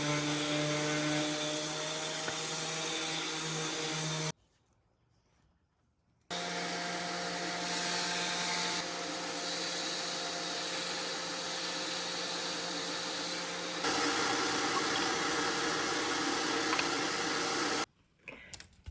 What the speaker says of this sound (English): So now I have to sand down all those spots that I filled last fall